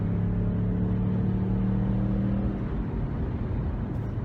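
Steady close engine drone inside a 2017 Ford Mustang while driving, a continuous low rumble with a constant pitch that eases slightly toward the end, with no talking.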